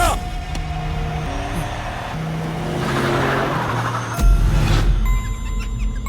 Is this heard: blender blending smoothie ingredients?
no